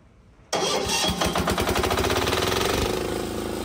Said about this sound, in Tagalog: Key start po siya. Ito po, oh. Para lang po kayo nagpaandar ng sasakyan.